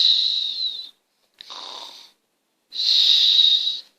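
Voices imitate loud snoring in three long, breathy, wheezing pulls separated by short pauses, close and clear, with a brief snort in the middle and no words spoken.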